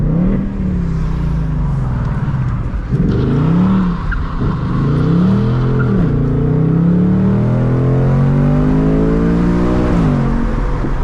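A 2024 Ford Mustang GT accelerates hard at night while racing a Stage 2 BMW M340I, engine pitch climbing loudly through repeated gear-change sweeps, heard up close from inside the car.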